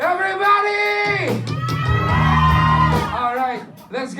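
A live band audience at a concert in Taipei shouts and cheers loudly, sustained crowd yells and whoops swelling together over a few seconds, with a short dip near the end.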